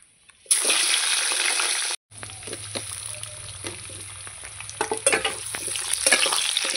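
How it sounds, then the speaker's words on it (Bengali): Potatoes dropped into hot oil in a pan for a fish and capsicum dish: a sudden loud hiss, a brief break, then a steady sizzle with stirring clatters and scrapes building toward the end. "এবার আমি এর মধ্যে আলু দিয়ে দেব। এই যে আলুগুলো দিয়ে দেব।"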